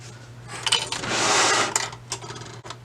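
A sewing machine stitches together the seams of stretchy tights, a quick whirring run of stitches rising and falling with short bursts and brief pauses, close and clear over a faint steady hum.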